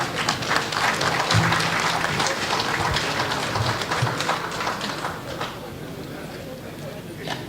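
Audience applause at a 2021 graduation lecture: broad, steady clapping that runs the full length, slowly easing toward the end, with voices mixed in.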